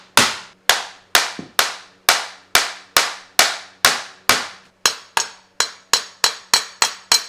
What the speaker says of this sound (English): A lot of whacking and thwacking.